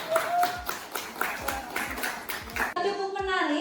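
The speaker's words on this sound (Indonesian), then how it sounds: "Terima kasih, tepuk tangan." An audience claps after a group presentation in a university teaching session, with steady, fairly loud rhythmic claps that stop abruptly near the end.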